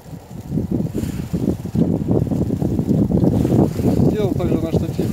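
Loud gusty wind buffeting the microphone in rumbling bursts, with a voice talking underneath.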